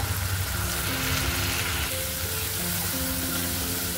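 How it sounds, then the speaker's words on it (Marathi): Tomato paste with masala fries in oil for drumstick curry, a loud, dense, continuous sizzle with crackling spatter filling the whole stretch, close up and without speech. "आणि टमाटरची पेस्ट एकदम म्हणजे तेल सुटेपर्यंत भाजायचे"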